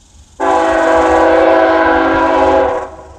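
A passing train's horn sounding near the tracks by a cemetery, one long sustained loud blast that starts abruptly and fades after about two and a half seconds, with no talking.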